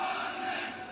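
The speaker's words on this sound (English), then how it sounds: "the Philadelphia crowd is really getting behind Gvozdyk" A Philadelphia boxing crowd roars steadily for Gvozdyk, a dense, sustained wash of cheering from a packed arena at a fight night.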